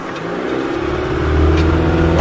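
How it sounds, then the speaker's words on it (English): A Suzuki engine running with the choke pulled up, its revs climbing into a louder, rising drone, captured close by with no talking. "Just reach around and pull my choke up a bit just to get the revs up."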